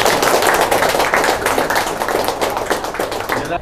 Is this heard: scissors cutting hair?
no